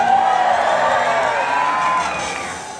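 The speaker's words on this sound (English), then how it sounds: "Crowd goes wild." A crowd cheers wildly, with loud whoops and shouting that hold strong before tapering off near the end.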